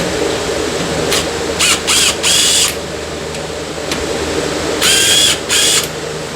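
A Snap-on power tool works on a 2013 Nissan Altima 2.5 S wheel during a brake job, firing in several short, sharp high-pitched bursts over a steady low background hum.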